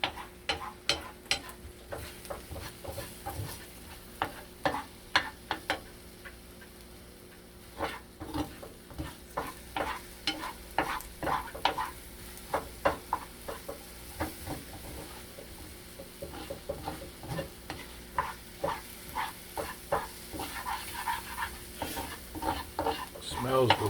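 Eggs and onion fry in a pan while a spatula stirs and scrapes repeatedly, producing rhythmic clacks and scrapes over a steady low sizzle across the whole stretch.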